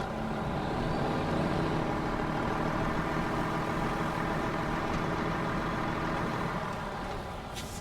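A heavy truck engine idles steadily in Snowrunner's Ontario map, a low, continuous rumble that stays loud and even throughout with no talking.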